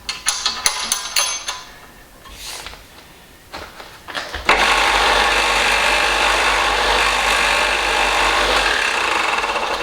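Belt-driven bench grinder in a workshop: a few clattering knocks and handling noises, then the motor starts and runs on as a loud, steady whirring roar close by.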